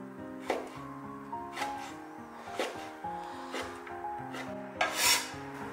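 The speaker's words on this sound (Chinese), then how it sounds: "再来准备一根党参， 给它切成小段" Knife cutting a codonopsis root into short pieces on a board, a few distinct chopping strokes spaced about two seconds apart, close and fairly quiet, alone over soft background music.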